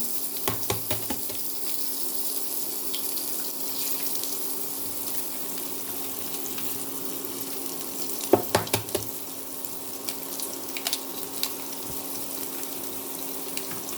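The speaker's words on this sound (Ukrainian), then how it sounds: "Кабачки обсмажуємо з обох боків." Zucchini slices frying with egg in an oiled pan, giving a steady, even sizzle throughout with occasional light clatters from the pan.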